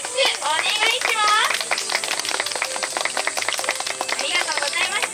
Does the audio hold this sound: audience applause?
yes